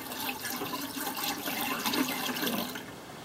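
Liquid poured down a sink drain in a Passport 217 camper gurgles and trickles into the gray tank below, a quiet continuous rushing flow that fades near the end.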